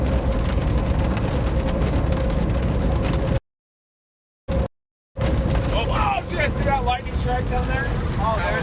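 Heavy high-precipitation storm rain drums steadily on a car during a tornado-warning storm chase, a dense loud wash broken by a brief dropout, with some faint tonal sounds and voices near the end.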